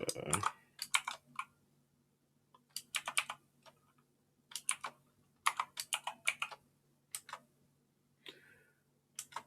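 An SSH password being typed on a computer keyboard: bursts of quick, close key clicks separated by short pauses, quiet and crisp, with no voice over them.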